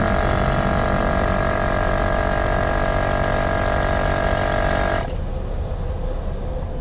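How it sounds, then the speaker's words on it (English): Air ride suspension pump on a 2006 Pontiac Montana SV6 with a 3.5 l engine, a loud steady electric whine and hum that cuts off abruptly near the end, leaving quieter background noise. "The pump just turned on its own, and it's going up."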